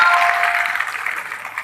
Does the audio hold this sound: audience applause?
yes